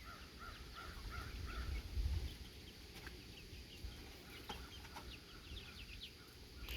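Chickens outside their coop clucking and calling quietly in the open air, soft irregular bird sounds over faint outdoor background noise.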